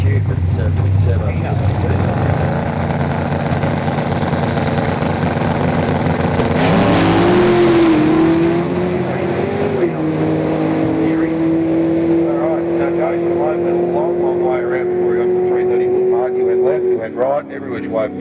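A twin-turbo V8 Ford Mustang drag race car makes a long, loud engine roar that climbs in pitch through the run and then fades, heard under continuous announcer commentary.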